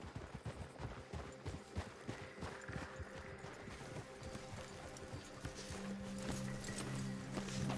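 Several horses' hooves clip-clopping on the ground as riders dismount in the video game Red Dead Redemption 2, a busy, uneven patter of hoofbeats that fades into a steady rumbling ambience.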